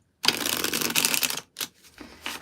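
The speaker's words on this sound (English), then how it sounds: "I'm liking this deck, so I'm just going to keep shuffling it." A deck of reading cards is shuffled by hand in a steady, dense riffle of papery flutters for about a second, then a few shorter bursts of card shuffling follow, close and clear with no talking.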